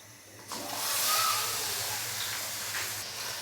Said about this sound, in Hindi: घी अच्छे से गर्म हो चुका है, तो अभी मैं इसके अंदर चिकन डाल दूंगा।